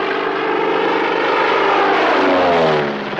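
A propeller airplane in a 1941 Army flight-training setting drones steadily overhead, a loud continuous engine roar that swells slightly toward the end with no talk.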